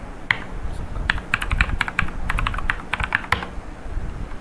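A username is typed on a computer keyboard, close and crisp, in short irregular bursts of clicking keystrokes with small pauses between them.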